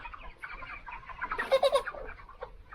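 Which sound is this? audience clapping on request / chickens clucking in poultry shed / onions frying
chickens clucking in poultry shed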